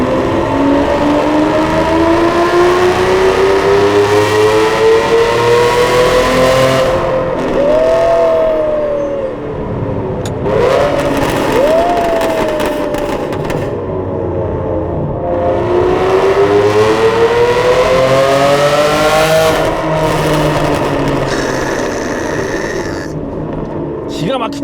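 Aston Martin Vanquish V12 with custom-made exhaust headers revving hard, loud rising and falling engine wails with several sharp throttle blips and pitch sweeps, close and dominant throughout.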